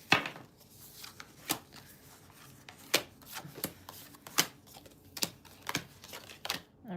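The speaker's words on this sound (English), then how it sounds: "Let me just shuffle these." Cards being shuffled in a series of sharp, irregular riffling snaps and soft rubbing, fairly close and quiet, with no voices.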